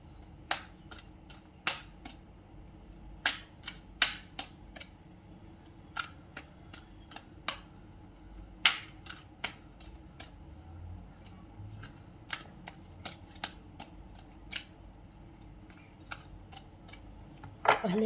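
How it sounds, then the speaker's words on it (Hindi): Tarot cards handled and shuffled: a run of sharp, close card snaps and flicks in irregular bursts over a quiet background, with no talking. "पहले मैं सारे कार्ड निकाल लेती हूँ"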